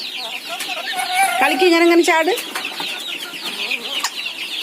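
A chicken clucks close by in a series of short, uneven calls, with people talking over and around it.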